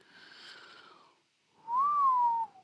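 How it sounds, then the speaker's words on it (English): A person whistles two short tones, the first soft and wavering, then after a brief pause a louder, clearer sustained note that rises slightly and falls away, heard alone at close range. "Oops, didn't mean to whistle."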